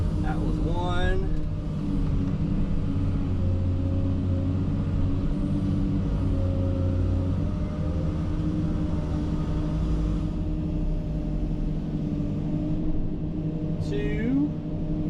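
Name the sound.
Komatsu excavator scooping dirt into Volvo haul truck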